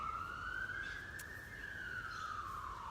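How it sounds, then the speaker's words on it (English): An ambulance siren passing by outdoors, heard from a distance as one steady wailing tone that rises and then falls over a low background rumble. "guess what, there's an ambulance going past."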